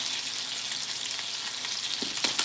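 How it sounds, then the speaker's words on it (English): Pasta noodles are stirred in a pot, giving a steady bubbling sizzle with a few soft scraping clinks near the end, close up and with no talking. "We're going to give this a nice little stir because I don't want any of my noodles to stick to the bottom"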